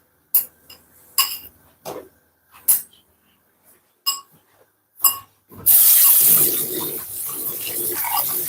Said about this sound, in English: Need some water in this kettle.